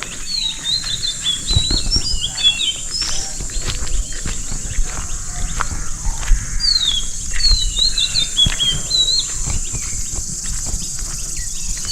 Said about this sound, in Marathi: पक्ष्यांचा किलबिला ऐकतं काय मंडळी